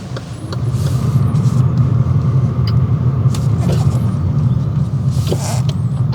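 A car pulls away during a driving test in Western Australia, with a steady, loud engine rumble and road noise throughout and a few faint clicks and thumps inside the cabin.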